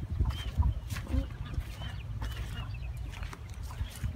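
Hens in coops at a Vietnamese coconut garden farm cluck in low, irregular bursts, fairly faint, with some indistinct background noise.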